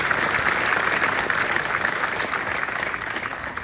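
Audience applause fills a live seminar hall in Dubai, a dense, steady wash of many hands clapping at once that holds loud and even for the whole stretch, with no talking over it.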